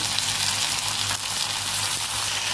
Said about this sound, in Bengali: এবার আদাটা দিয়ে দিয়েছি, একটু ভালো করে ভেজে নেবো